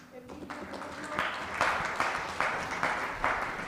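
Applause from an audience at a quality improvement leadership forum swells in after a brief lull, steady broadband clapping with rhythmic surges, moderately loud, with a voice speaking over it.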